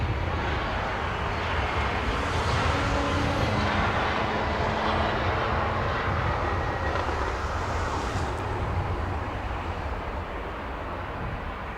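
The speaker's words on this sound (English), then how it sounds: "Now let's go to the southwest departure here in front of us. Southwest 9008, a MAX 8 737." Southwest Boeing 737 MAX 8 departing from Los Angeles International Airport, a steady, broad jet roar that stays fairly distant and even throughout, with no talk.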